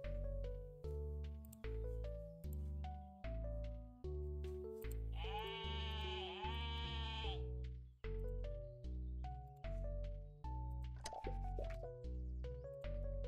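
Sheep bleating in the video game Terracards: a loud, drawn-out electronic bleat of about two seconds rises out of a steady, bouncy game music loop of plucked bass notes that keeps playing before and after.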